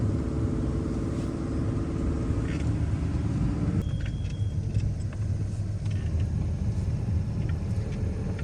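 A car descends a winding downhill serpentine road in Durmitor, from Black Lake toward the Đurđević Tara bridge. A steady, close engine and road rumble runs throughout with no talking.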